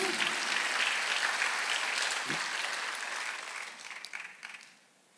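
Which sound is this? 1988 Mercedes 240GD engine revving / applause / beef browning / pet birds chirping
applause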